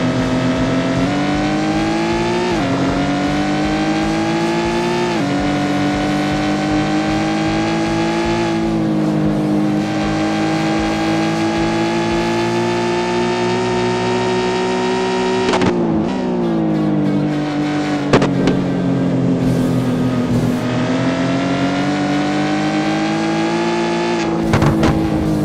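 Race car engine held in third gear through a corner, a loud close-up drone whose pitch dips and climbs as the driver eases off and reapplies throttle, with brief shifts and faint tire noise and no talking.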